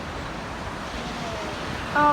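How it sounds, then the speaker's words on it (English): Ocean surf rolls in at a beach as a steady broad wash of waves under wind noise, with a storm approaching and people further down the shore. "Interesting waves today."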